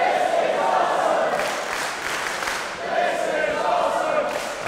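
Wrestling crowd in a Manchester arena chanting in rhythmic unison with cheering, a loud dense roar swelling in waves throughout.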